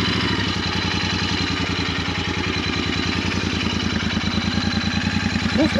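A Royal Enfield Continental GT 650 motorcycle idles after being started, its twin-cylinder engine giving a steady, even, close-up thumping pulse with a slight rise toward the end.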